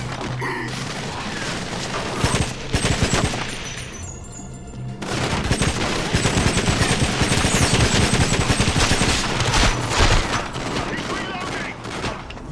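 Gunfire in GoldenEye: Rogue Agent rattles in dense, loud automatic bursts mixed with heavy booms, breaking off for a moment before resuming nearly nonstop.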